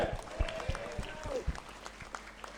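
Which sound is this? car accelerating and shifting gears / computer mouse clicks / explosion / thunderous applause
thunderous applause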